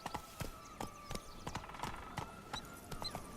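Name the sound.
Roach the horse's hooves clip-clopping in the video game Witcher 3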